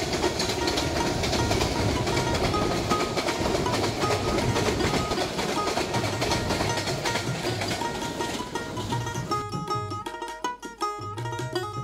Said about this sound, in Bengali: সুন্দর একটি আন্তনগর ট্রেন যাচ্ছে